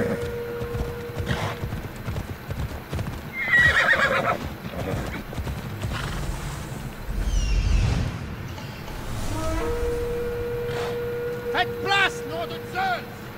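Horse in the video game Assassin's Creed Odyssey, hooves clip-clopping with a couple of whinnies and neighs, set against game ambience and soft music, with someone talking over parts of it.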